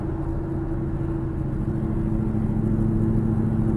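A Chevy Camaro engine idles steadily nearby, a low constant rumble with a faint hum that holds at an even level throughout, with no voices over it.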